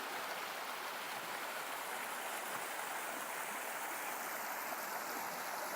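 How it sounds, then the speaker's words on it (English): River water rushes steadily at a hiking-trail ford on the Appalachian Trail near McAfee Knob, a dense, continuous, close hiss with no pauses and no voices. "That was my river fording number 2."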